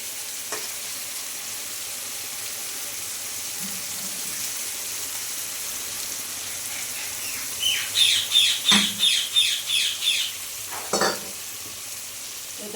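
Chicken frying with ginger garlic paste gives a steady close sizzle, joined near the end by a quick rhythmic run of about eight scraping stirring strokes and a final pair of scrapes, with no speech.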